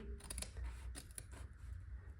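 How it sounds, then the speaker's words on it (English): Scissors snip interfacing away from embroidered fabric in several quick, soft close-up cuts, quiet and without talk. "You're going to make use of your scissors to trim off this interfacing."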